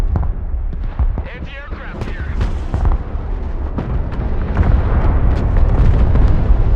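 Heavy bomber airstrike in the war game Broken Arrow: a string of deep booming explosions and rumbling blasts building into a loud continuous roar, with voices talking over the barrage.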